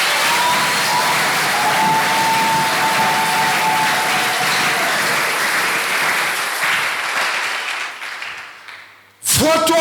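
A church congregation applauds the Lord with loud, sustained clapping and cheering voices that fade out gradually, followed by a sharp burst at the very end.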